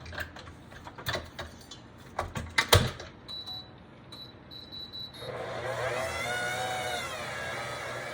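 A stand mixer with a dough hook kneads sourdough for a savory loaf with garlic and onion; after some scattered clicks and taps, a steady whirring motor hum starts and runs through the final few seconds.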